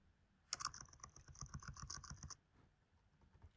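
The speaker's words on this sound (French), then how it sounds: "on tape juste la commande capwap" Typing on a computer keyboard while entering a CAPWAP network command: a quick, close burst of clicking keystrokes lasting about two seconds, heard alone against quiet.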